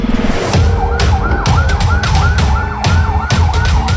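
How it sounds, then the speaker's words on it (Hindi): An ambulance siren wails as it arrives at a hospital in Gaza, a loud, close, rapidly repeating rising-and-falling tone sounding continuously over traffic and engine rumble, with sharp clatters and knocks mixed in. "अस्पताल में तीसरी एम्बुलेंस आती है"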